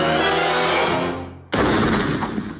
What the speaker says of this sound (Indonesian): suara tembakan pemburu yang menggema berhasil menyayat hati kita